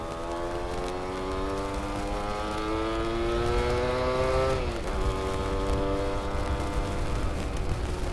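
A Yamaha F1ZR two-stroke motorcycle engine revs steadily while riding, its pitch climbing in a long sustained whine, dipping briefly, then holding high again, loud and close with rushing road noise beneath.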